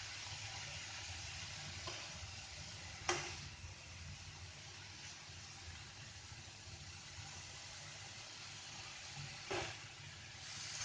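Zucchini noodles for keto Hakka noodles stir-fry in a pan with a soft, steady sizzle, broken by a couple of brief scraping clicks from stirring.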